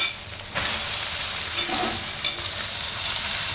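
Boiled pasta hits a pan of fried carrots and begins to stir-fry. After a brief quieter moment, a loud, steady sizzle takes over, with occasional stirring scrapes, close by and free of speech.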